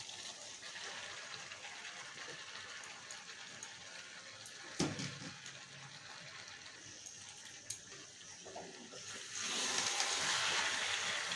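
Water poured into frying masala for a Bengali chicken curry, a steady watery hiss and gush running through the whole stretch, with a sharp clatter midway and a louder surge near the end; no one speaks.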